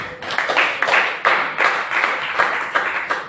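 Church congregation clapping for Jesus, a steady run of rhythmic claps in repeated bursts filling the room, loud and close.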